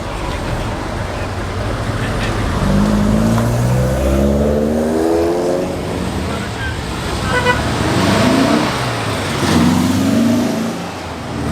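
A vintage Austin followed by a Lotus Esprit pull away at a car meet, a loud steady engine roar rising and falling as they accelerate off, with a voice talking over the traffic noise.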